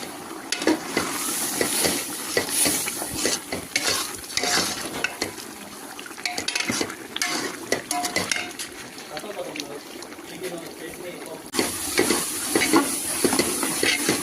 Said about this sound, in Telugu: ఇప్పుడు నీళ్ళు వేసుకుందాం కరెక్ట్గా పది నిమిషాలు ఉడకబడ్డాం సూపర్గా ఉంటుంది రొయ్యలు కూడా